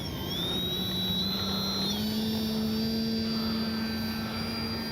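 An RC H-King Kitfox model airplane takes off with a high buzzing electric motor whine that rises slightly in pitch, heard steadily and fairly close with no voices.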